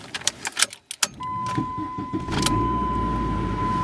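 Dodge Neon engine after a motor mount replacement: a few clicks and clunks, then the engine catches and settles into a steady, smooth idle with a faint whine.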